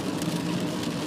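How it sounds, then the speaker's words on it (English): Steady rain patters on a surface, a dense even hiss with no other sounds standing out. "hopefully the rain isn't too much for the little iPod"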